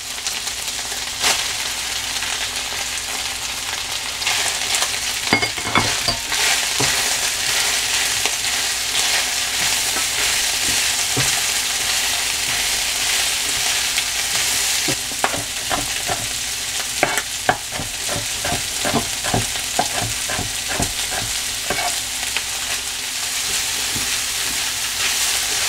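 Sliced onion and chile pimiento sautéing with browned chicken breast fillet in a pan, a continuous loud sizzle with bursts of rapid stirring scrapes and clacks, close and steady throughout.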